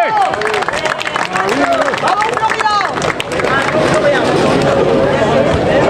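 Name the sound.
crowd applauding a vintage car presentation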